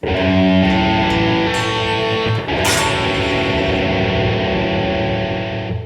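Distorted electric guitar plays a chord sequence, a few loud ringing chords with slides and pick scrapes between them, then a final chord left to sustain, with no voices.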